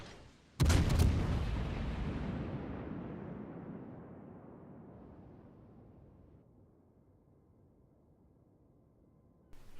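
A warship's big guns fire in World of Warships, firing on the battleship Republic: one sharp heavy salvo followed by a long rumbling decay that fades over several seconds, with a new report starting at the very end.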